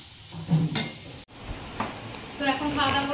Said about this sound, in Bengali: সেই জন্যই যে আলু ভাজাটা করছি